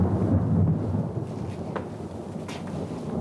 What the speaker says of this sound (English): There's a storm brewing outside.